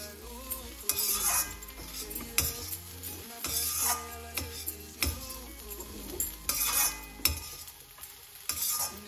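A kilo of peas for matar nimona being stirred and roasted in a pan with asafoetida, repeated scraping strokes of a spoon against the metal over a soft sizzle, in uneven bursts with no talking.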